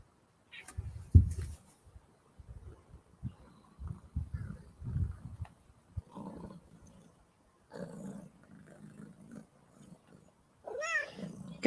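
A cat growls and yowls in uneven bursts, fairly close, with low rumbling sounds and a higher cry near the end.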